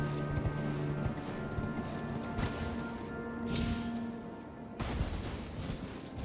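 A horse gallops in the video game Elden Ring, a steady fast clip-clop of hooves close up over a continuous outdoor background rumble, with a brief chime-like tone partway through and no talk.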